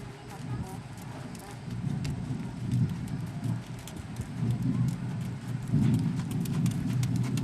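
Horse hooves on an arena surface during a dressage demonstration, a steady, cadenced clip-clop of strides moving continuously under a faint background hum.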